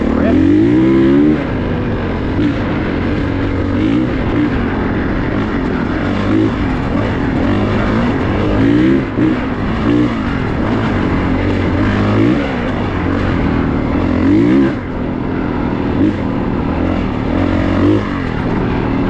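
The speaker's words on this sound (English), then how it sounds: "The bike is running really good today. Nice and smooth" Honda CRF450RX dirt bike engine running steadily close by on woods trails, a continuous throaty drone with occasional small rises and dips in revs.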